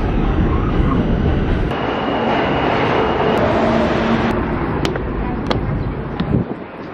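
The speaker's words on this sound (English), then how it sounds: "I haven't been on the subway in years." Steady loud rumble and roar of a subway train ride heard from inside the car, with clicking rail joints and faint squeals over the constant noise, and a few muffled voices underneath.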